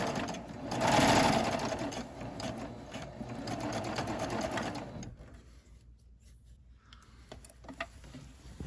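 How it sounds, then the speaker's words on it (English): A home sewing machine stitches a pillowcase with a fast, even mechanical whir for about five seconds, then falls quiet apart from faint ticks and small handling noises. "So let me raise my presser foot, get that underneath there, and we're gonna sew."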